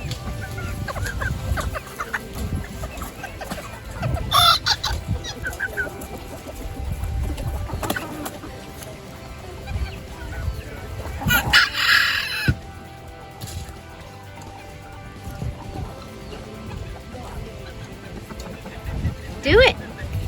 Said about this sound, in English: And the roosters, little crows.